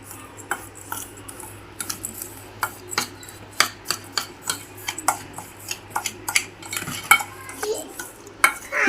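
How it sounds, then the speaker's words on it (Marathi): Curry leaf chutney being mixed in a pan, with a steady run of sharp spoon scrapes and clinks against the metal, nearby and fairly loud, over a low hum and no talking. "ही अशा पद्धतीने मिक्स करून घ्यायची बघा."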